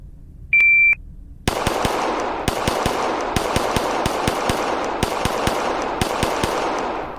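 Handgun shots fired from the holster at a range during red dot and iron sight training, preceded by a shot-timer beep, then a rapid string of sharp, loud reports in uneven bursts.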